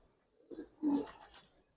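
A pigeon, one of several young silver Giribaz birds, gives a soft, close coo with a short rising note followed by a fuller rolling call, quiet and alone.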